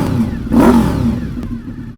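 A motorcycle fitted with an aftermarket exhaust revs briefly, a throaty engine note that swells and then drops back before cutting off abruptly, loud and close.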